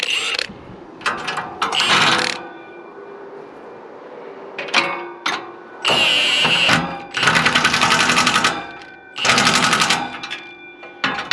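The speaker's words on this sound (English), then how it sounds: "I'll do up the outside bolts." Power tool driving bolts tight while refitting a muffler-delete exhaust, heard as several loud buzzing, rattling bursts of a few seconds each, separated by quiet gaps.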